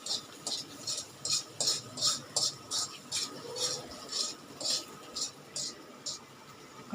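Egg bhurji being chopped into small pieces with a spatula in a pan, giving a steady run of light, close scraping taps against the metal, roughly two per second.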